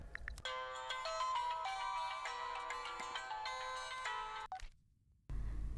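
A phone's electronic ringtone plays once as a bright, steady, close melodic pattern for several seconds. It stops abruptly before a short quiet gap.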